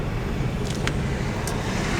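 Continuous road traffic roars close by, a dense, loud, unbroken wash of passing vehicles with a couple of faint higher squeaks over it.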